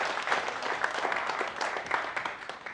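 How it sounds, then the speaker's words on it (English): Lively audience applause, a steady dense wash of many hands clapping at close range for a few seconds. "Give yourselves a round of applause."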